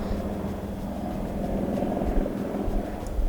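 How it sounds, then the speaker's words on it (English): An aeroplane passes over a house as a steady, broad low roar that fills the whole stretch at moderate loudness, with no voices. "That's an aeroplane that is just flying over my house."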